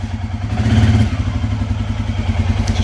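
A Suzuki Quad Master 500 ATV engine with a new drive belt runs in gear close by, a steady throbbing low chug with a rhythmic pulse that swells briefly before settling.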